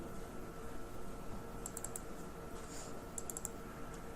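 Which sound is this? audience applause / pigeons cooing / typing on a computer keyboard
typing on a computer keyboard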